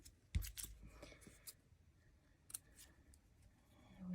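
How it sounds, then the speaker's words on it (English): Scissors cut silver ribbon at a craft desk, giving a few quiet, sharp snips spaced across several seconds against a soft, near-silent room. "Let's get some silver ribbon and scissors."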